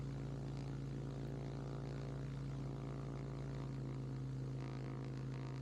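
A Ximango motor glider's propeller engine held at 4,000 RPM during a ground run-up gives a steady, droning hum with a strong, even pitch that stays unchanged throughout, close and constant with no talking.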